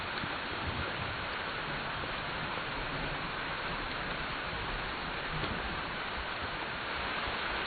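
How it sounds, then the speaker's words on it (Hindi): Steady rain pours without a break for the whole stretch, a dense even hiss that covers everything and has no voices or other sounds on top of it. "बारिश कब रुकेगी?"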